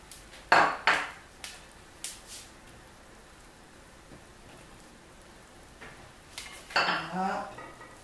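Aubergines, chili and fresh okra drop into n'tro sauce boiling in a pot, with a few sharp clatters and splashes at the start and a burst of bubbling and knocking near the end, over a quiet simmer.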